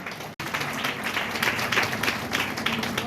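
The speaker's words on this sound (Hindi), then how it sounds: "तालियों से स्वागत करें" At a school teachers' gathering, an audience gives welcoming applause for a teacher, a broad, sustained clatter of many hands after a brief break, fairly steady with slight swells.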